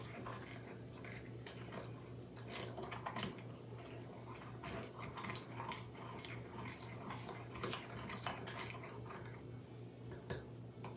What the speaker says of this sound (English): Now stir until your mixture is well combined.